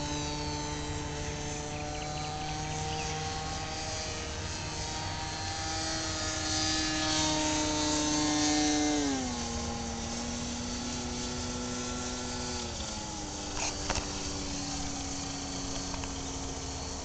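A UAV disc aircraft flies in to land, its small motor whining as a steady tonal drone that drops in pitch twice as it slows, fairly faint over outdoor background noise.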